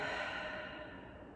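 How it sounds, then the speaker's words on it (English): One deep breath during a yoga practice comes as a single soft, airy exhale close to the microphone, steady and then gently fading over about a second. "Take a big breath in, big breath out."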